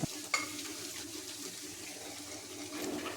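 A steady hiss of tempering spices sizzling in hot oil in a pan, with a brief clink near the start and no voices.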